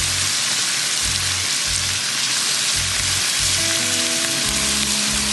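Spice masala for a chicken and potato curry fries in a pan, giving a loud, close, unbroken sizzle and crackle that carries on steadily throughout.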